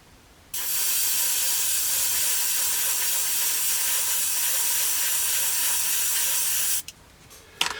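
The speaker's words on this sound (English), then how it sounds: "So I'll just clean the airbrush out and then we'll put the red on." An airbrush sprays paint onto the propeller spinner of a 1/48 scale P-40N Warhawk model, a steady close hiss that starts abruptly, holds for about six seconds and then cuts off, followed by faint clicks.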